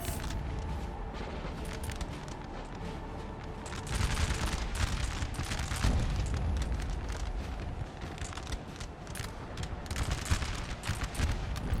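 Musket volleys and scattered gunfire in Napoleon: Total War, a continuous crackling battle din of overlapping shots with dull booms, growing louder partway through and staying dense to the end.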